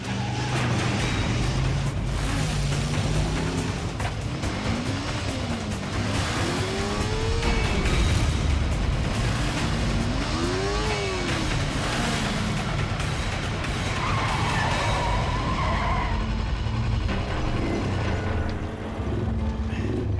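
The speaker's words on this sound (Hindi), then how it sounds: "ये ट्रक क्यों इतनी तेजी से जा रहा है? ये ट्रक वाला तो सिग्नल तोड़ के जा रहा है" A truck speeding through a traffic signal amid loud, continuous road traffic, with engine roar and passing vehicles throughout, plus rising and falling siren-like tones in the middle.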